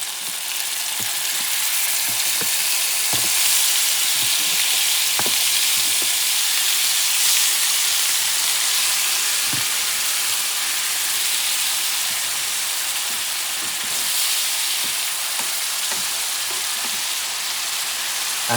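Tomato sauce sizzles steadily in a hot shrimp paella pan, a loud, continuous frying hiss with scattered crackles and pops, close up and with no talking.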